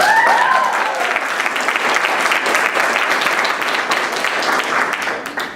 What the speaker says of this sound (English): y'all clap it up again for Seff, please?